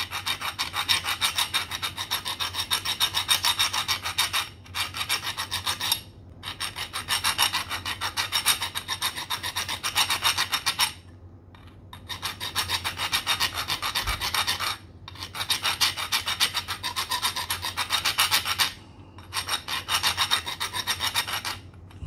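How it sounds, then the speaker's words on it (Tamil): Hand thread file working an external thread on a metal part: continuous close rasping strokes in long bursts separated by brief pauses, even and rhythmic. "ஸோ இப்போ ஓரளவுக்கு ஃபைல் பண்ணியாச்சு."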